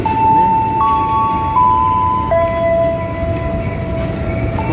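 A double-track train on the new Paledang Bogor–Sukabumi railway line sounds loud and close, with sustained steady tones over a rumbling low background, and a brief voice heard faintly.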